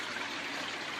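Water runs down the chute of a copper-plastic separator in a copper wire recycling plant, a steady broadband rushing flow, quiet and continuous for about a second, with no voices.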